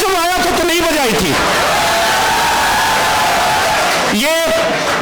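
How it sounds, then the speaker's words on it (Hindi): Audience at a Hindi comic poetry gathering (hasya kavi sammelan) in Moradabad cheering and applauding, a loud crowd roar and whoops under raised voices, with someone talking over the noise. "बेटा, तुम लोगों ने इतनी तालीम मैं जब आया था तो नहीं बजाई थी।"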